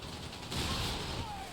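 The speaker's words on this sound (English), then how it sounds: "Another frag bomb drop." Frag bomb drop in Company of Heroes 3 on the Tunis battlefield, a sudden burst of blast noise that swells and rumbles for about a second amid ongoing battle sounds.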